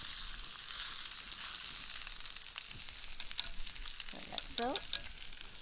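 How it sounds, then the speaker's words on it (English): Tofu being stir-fried in a clay pot with ginger, garlic and spring onion gives a steady sizzle with a few clinks of a utensil toward the end, and a voice speaks briefly. "well stirred really, really well, and you want to dig up all the nice aroma, ginger and garlic and spring onion, and coat it all over the tofu"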